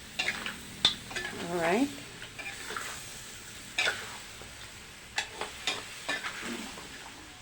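Pork adobo with added vinegar is stirred in a pan, giving gentle sizzling and scattered scrapes and clinks of a utensil against the metal, close by, with a brief spoken word.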